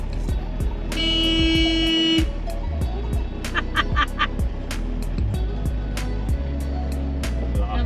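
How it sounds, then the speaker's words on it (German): Horn of a 4x4 expedition truck camper in the Pyrenees, honking at a calf on the road: a long steady blast followed by a few short toots, heard from inside the cab over engine rumble. "Hupen."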